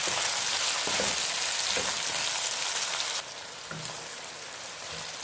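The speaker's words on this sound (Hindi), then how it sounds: "अब इसको लाइटली हमने जो है फ्राई करना है" Chopped onions lightly fry in a pan for prawn biryani, making a steady hissing sizzle with a few faint stirring scrapes; the sizzle drops slightly in level partway through.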